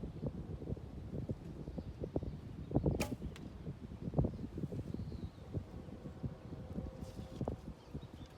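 Arrows are shot from a Dan Toelke Pika takedown bow at 20 yards, with faint snaps and thuds over steady outdoor wind noise.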